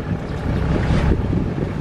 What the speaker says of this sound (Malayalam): ബോട്ട് ഞങ്ങളെ കടന്നു പോകുന്നുണ്ട്.